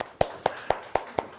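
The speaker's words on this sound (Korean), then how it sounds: "박수." A lecture audience at an author talk on climate change claps in unison, five sharp, evenly spaced claps in a quick steady rhythm.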